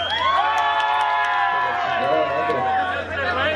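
Karaoke audience at a bar cheering, whooping and shouting together, a loud sustained crowd roar with excited voices throughout and speech mixed in.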